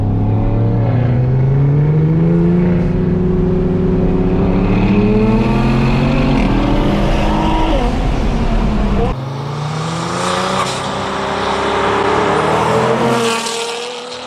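An Audi RS6 and a Nissan GTR, both around 700 hp, pull hard from a rolling start at 70 km/h in third gear in a drag race, engines roaring loudly and rising steadily in pitch before a gear change.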